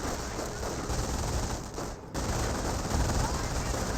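An MG42 machine gun in Company of Heroes rattles out long, dense bursts of rapid fire that fill the mix, with a brief gap midway before the firing resumes just as loud.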